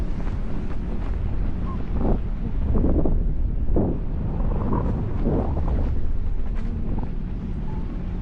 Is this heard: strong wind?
yes